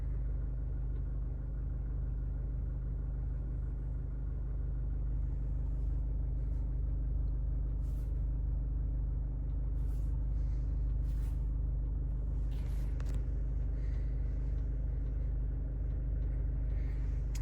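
Mitsubishi ASX with a traction control and ABS fault, heard from inside while it drives down the road: steady low engine and road rumble with occasional clicks and faint knocks.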